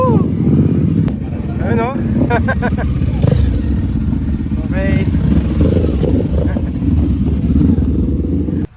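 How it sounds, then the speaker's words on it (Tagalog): Motorcycles and maxi scooters, including a Ninja 1000 and Versys 1000, rumbling into a sandy parking area during a group ride in Calatagan, Batangas, engines idling and revving close by while people talk. "Ayan yung mga motor."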